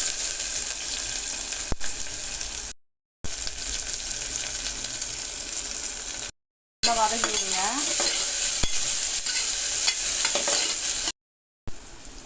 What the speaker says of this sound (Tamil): இப்போ எண்ணெய் நல்லா காஞ்சிச்சு மூணு பட்டை மூணு லவங்கம் ஒரு பிரியாணி இலை இதில் போட்டுக்கலாம்